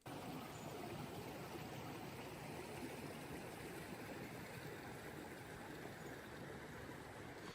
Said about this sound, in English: you could still hear the water flowing underneath it